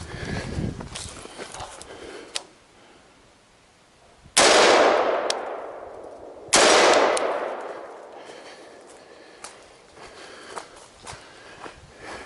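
Two loud, sharp gunshots at steel targets on an outdoor shooting course, a couple of seconds apart, each followed by a long ringing decay, with quieter footsteps and rustling before and after.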